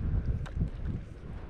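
Gusty wind buffets the microphone beside a hidden alpine pond in wilderness, a steady low rumble with no voices.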